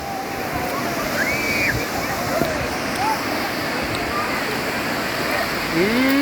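Sea waves surge and crash onto the shore in a steady, loud roar of broadband wash, with brief calls or voices faintly threaded through the continuous surf.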